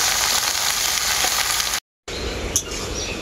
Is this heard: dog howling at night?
no